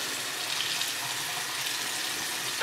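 Hot water runs steadily from a kitchen tap in a house being inspected, a continuous close hiss of flowing water with no voices.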